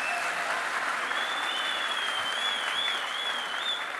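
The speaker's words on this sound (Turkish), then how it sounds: "büyük alkışlar Sayın Cumhurbaşkanımıza" A large crowd applauds the President at a big women's gathering in Denizli, with dense continuous clapping at an even level throughout and a thin high whistle or tone drifting above the clapping.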